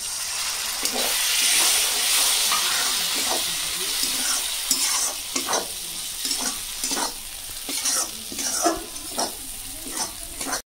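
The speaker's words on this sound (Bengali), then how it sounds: "মশলা কষা হয়ে গেছে" Spice masala for Gandharaj chicken curry frying with a splash of water, first a loud, dense sizzle, then easing into a softer bubbling hiss marked by repeated scrapes and knocks of the spoon stirring the pan up close.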